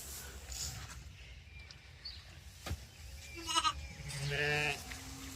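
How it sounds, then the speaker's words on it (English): Sheep bleating while feeding on hay in a farm shelter, several short calls near the end after a quiet stretch of soft munching and rustling, fairly close by. "The sheep are eating the hay."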